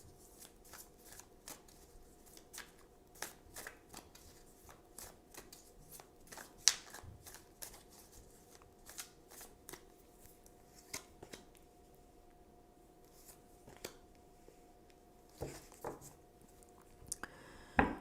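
Tarot cards are shuffled by hand in a quiet room, a run of soft, close riffles and crisp snapping flicks repeating irregularly over a faint steady background hum.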